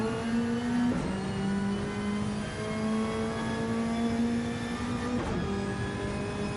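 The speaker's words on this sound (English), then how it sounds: "Sounds fantastic though, this Supra, doesn't it?" A Toyota Supra race car engine in Gran Turismo 7 at Road Atlanta holds a steady, buzzing, mid-pitched drone with rich harmonics, shifting pitch briefly at two gear changes, continuous and loud.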